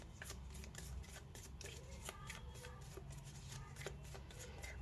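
Tarot cards are shuffled and drawn by hand in a rapid flurry of crisp riffles and soft slaps, quiet but close, continuing without pause and with no talking.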